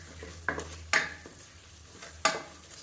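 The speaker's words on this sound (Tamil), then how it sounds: "நல்லா வதக்கியாச்சு" Spices sautéing in a pan for Tamil-style salna, with a soft sizzle beneath a few sharp scrapes and clinks of a spoon stirring against the pan.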